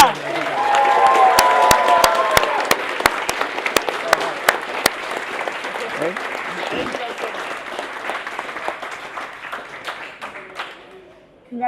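A crowd applauds and cheers the Masters champion at a laser tag championship awards ceremony, with loud sustained clapping that thins into scattered claps and fades out, while voices talk underneath.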